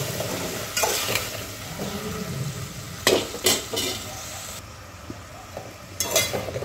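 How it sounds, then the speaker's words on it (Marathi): Vegetables sautéed and stirred in a pan for Maharashtrian masale bhaat, a soft steady frying sizzle with a few sharper scraping strokes of the spoon against the pan at close range. "याला परतून घेऊ आपण."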